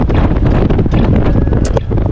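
Strong wind roars constantly against the microphone outdoors on the Tagaytay bypass, a loud, buffeting rumble that never lets up, with a faint brief rattle near the end.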